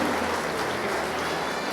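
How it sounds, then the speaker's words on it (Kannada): Audience applause at a chief minister's medal award ceremony: a dense, steady wash of clapping from a crowd, even and continuous for the whole brief moment. "ಅವರ ಶೌರ್ಯಕ್ಕೆ ಅವರ ಧೈರ್ಯಕ್ಕೆ ಚಪ್ಪಾಳೆಯ ಅಭಿನಂದನೆ"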